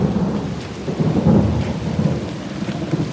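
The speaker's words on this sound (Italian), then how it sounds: "Sentite i tuoni." Thunder rolls in a low, steady rumble during a storm, with rain hissing in the background; loud and close, swelling slightly in the middle.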